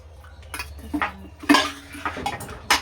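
Cooking pot being washed by hand in a home kitchen, with several clanks and scrapes of metal against metal and a light splash, close and intermittent.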